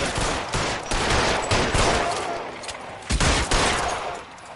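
Gunfire in the video game L.A. Noire, loud rapid volleys of shots in bursts, a dense fusillade in the first half, a short pause, then another sharp burst before fading.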